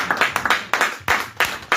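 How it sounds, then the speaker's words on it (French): A small church group claps in an uneven rhythm, sharp close hand claps repeating for a couple of seconds with no talking. "On applaudit le Seigneur."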